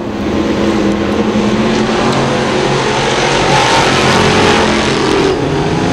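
Crate sportsman modified race cars roar around a track, a loud, dense wash of engine noise with revving swelling and easing as the pack passes, no voices over it.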